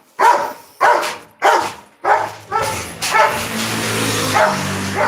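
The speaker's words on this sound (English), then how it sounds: "that's another dog" A dog barks loudly and close, five sharp evenly spaced barks over the first three seconds, followed by continuous broadband outdoor noise on a street in a mountain town, with a low engine hum underneath.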